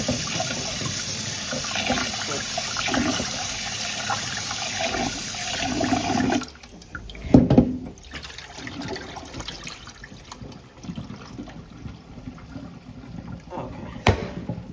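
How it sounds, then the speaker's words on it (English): Rice being washed under running water from a faucet: a steady rushing stream for several seconds, then quieter trickles, splashes and swishing of grains in the bowl, close up and without talk. "We're going to wash it until the water kind of runs a little clear."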